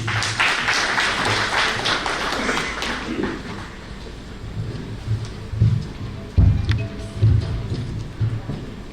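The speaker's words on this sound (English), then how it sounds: "But not without a huge round of applause" An audience at an education summit claps in a round of applause that starts fairly full and thins out into scattered claps, with some background murmur underneath.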